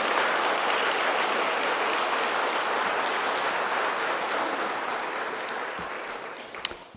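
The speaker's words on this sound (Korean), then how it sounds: "박수로 환영해 주시면 감사하겠습니다" A congregation applauds newly ordained deacons at a church ordination service, a broad sustained wash of clapping that fills the room, then slowly thins and fades toward the end.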